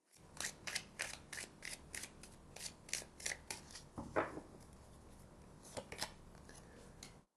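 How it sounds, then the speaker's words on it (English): Tarot cards being shuffled and drawn, a steady run of about a dozen crisp, close riffling snaps in regular rhythm, then a pause, a brief scrape and a few final flicks, with no talk. "Let's pull 3 more cards."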